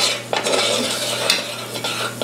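A spoon stirs a butter and flour roux in a pan. The scraping is continuous and close, with a soft sizzle and a low steady hum underneath.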